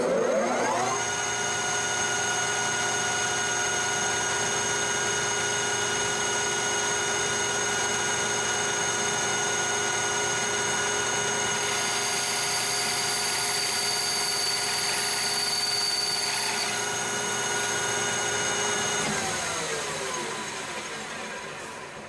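A lathe turns 4140 chromoly steel at 1120 RPM, a loud steady machine whine with sustained tonal hum lasting the whole stretch, shifting slightly partway through before winding down at the end.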